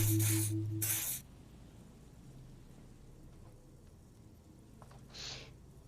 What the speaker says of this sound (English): He douses you with the odd-smelling spray, double helping as you present the other armpit